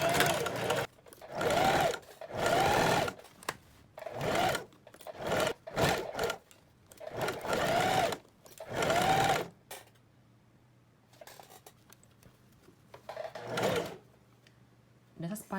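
A sewing machine stitches a blouse seam with a 1 cm margin, running in a series of short whirring bursts separated by pauses, close and clear, with quieter handling noises between runs.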